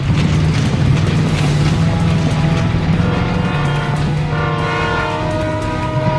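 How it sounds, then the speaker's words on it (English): An animated train rumbles past continuously with a sustained horn blaring over it, loud and close throughout, with no talking. "Train! I see it!"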